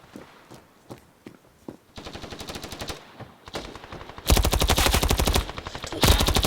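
Rapid automatic gunfire from a newly picked-up weapon in the mobile shooter Standoff 2: scattered single shots and footsteps first, then sustained loud bursts of fire, with a brief pause before a final burst.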